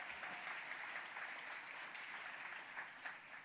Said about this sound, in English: let's give a round of applause to Norman